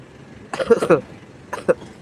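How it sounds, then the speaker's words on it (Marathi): A man with a cold coughs twice near the microphone, a short raspy burst followed a second later by a single brief cough, with quiet background in between. "थंडी व एक तर खोकला आलाय"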